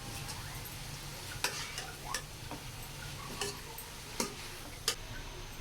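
Spring roll filling of chicken and spaghetti gets tossed with vinegar, soft stirring under a faint background hiss, broken by several sharp utensil clicks against the pan at uneven intervals.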